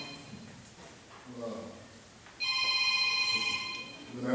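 A mobile phone rings with a bright, repeating electronic tone partway through, loud and close, following a stretch of muffled talk in the room.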